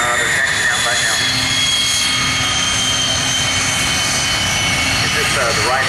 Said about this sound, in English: The Lockheed T-33 followed by the L-39s. They're taxiing out right now.